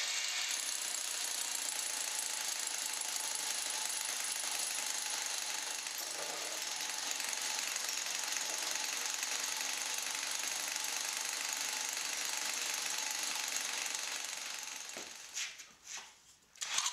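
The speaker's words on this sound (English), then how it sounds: "I got my little SDS plus hammering drill, so I'll bring you guys in close so you can see" SDS plus hammer drill boring into a concrete floor to anchor a four-post car lift, a loud continuous rapid hammering close up that stops near the end, followed by a few clunks.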